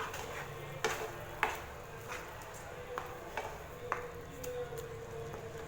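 Onions for an onion chutney stirred and sautéing in a pan, a spoon scraping the metal in a few light, scattered knocks over a faint, steady sizzle.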